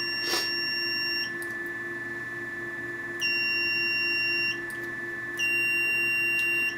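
A Venus Viva treatment handpiece gives high electronic beeps marking each completed pulse, three sustained tones spaced a couple of seconds apart over a steady low hum.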